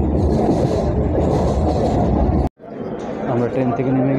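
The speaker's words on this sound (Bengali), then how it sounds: "আমরা উঠে পড়েছি ট্রেনে।" A passenger train ride, with a continuous low rumble and rattle of carriages under nearby chatter, cut abruptly midway before resuming with a quieter rolling hum and voices.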